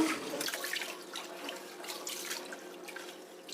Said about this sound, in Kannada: ಈಗ ಅಕ್ಕಿ ಮತ್ತು ಹೆಸರು ಬೇಳೆನ ಸ್ವಲ್ಪ ಚೆನ್ನಾಗಿ ಒಂದೆರಡು ಸಲ ತೊಳೆದ್ಬಿಟ್ಟು ಬೇಯೋದಕ್ಕೆ ಇಡಬೇಕು